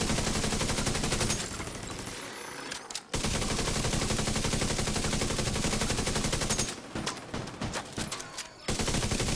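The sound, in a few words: gun firing in video game The Division 2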